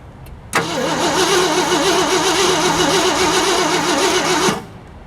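A 1965 Mercury Marauder V8 cranks and fires, then runs loud and steady for about four seconds before cutting off, with a rhythmic cranking pulse under the roar.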